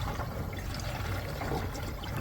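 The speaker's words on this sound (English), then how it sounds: "I could actually hear the water and our gases travelling through the pipework" Faint, steady rushing of water travelling through a school's pipework during a leak hunt, a constant low hiss and trickle with no breaks and no voices.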